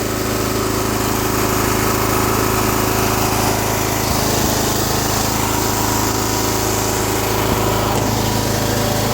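A John Deere 210 lawn tractor with a Kohler K341 16 HP engine runs steadily at a loud, constant drone with its side panels off, close by and with no voices.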